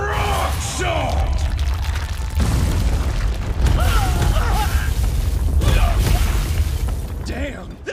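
An anime rock shot magic attack bursts out as heavy booming impacts and crumbling, rumbling debris, with shouting voices and crashes layered over a dense battle din.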